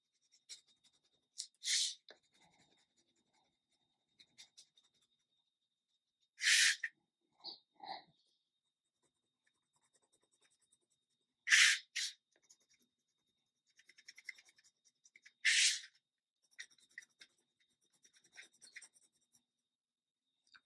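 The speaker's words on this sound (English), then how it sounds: "As I'm turning the paper around, it helps color in the lines better." Scratchy strokes of a colored pencil or crayon filling in a drawing on paper, heard in short separate bursts with quiet gaps between them, close and faint.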